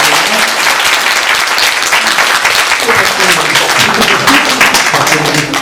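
A church congregation at Sunday worship applauds its online worship and translation teams in loud, dense clapping that holds steady throughout, with voices faintly mixed in underneath.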